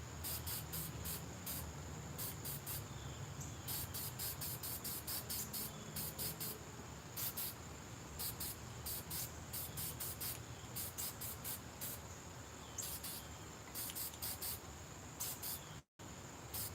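Spray paint is applied to a fishing rod in short, repeated hissing bursts with brief pauses between them, over a quiet background with no talk.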